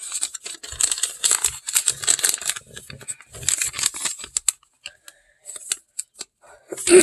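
Origami paper being folded in half for a shamrock, with soft crinkling and creasing rustles in quick bursts up close, then sparser taps and handling noises.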